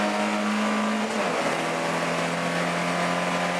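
BMW E30 race cars roar down the long back straight at Pukekohe Park Raceway, a loud sustained engine drone with one pitch shifting down partway through as cars pass close by.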